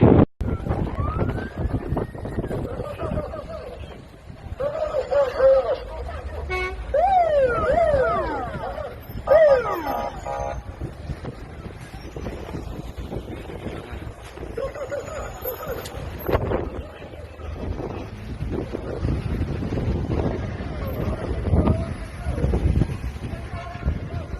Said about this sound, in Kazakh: Мына жел ғой қазір.